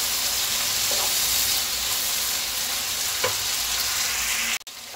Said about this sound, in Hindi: अब हम इसको चलाएंगे।